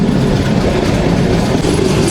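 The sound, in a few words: Humsafar weekly express train running and taking a curve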